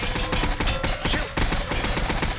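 Sustained automatic gunfire in the Roblox game Dust during a raid, a loud rapid rattle of shots that briefly pauses and then resumes.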